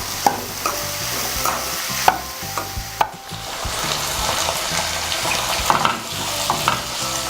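Sliced ridge gourd frying in a pan with salt, a steady sizzle broken by repeated close scrapes and knocks of a spoon stirring it, with no talking.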